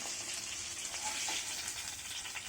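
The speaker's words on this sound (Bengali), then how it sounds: "এভাবে একে একে আমরা সবগুলো মাছ ফ্রাই করে নিব" Sarpunti fish frying in hot oil for a spicy jhal fry, a steady close crackling sizzle with fine bubbling, continuous and fairly loud with no voices.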